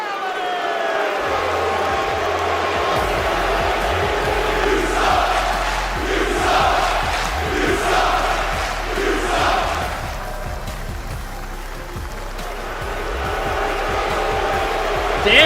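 A large esports arena crowd at a Rocket League championship match as Team Vitality is introduced, a sustained loud roar with shouts, cheers and chanting that rises and falls, with a voice speaking over it.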